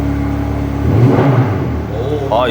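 A Porsche Panamera hybrid fires up with its sport exhaust, a low steady idle swelling into a brief throaty rise, heard close from inside the car under a faint bit of speech near the end.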